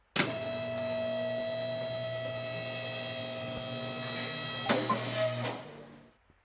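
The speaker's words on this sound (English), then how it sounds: "Lift the car to its highest position." Video game car lift raising a car to its highest position: a steady electric motor whine holding for several seconds, with clunks near the end before it stops, no talking.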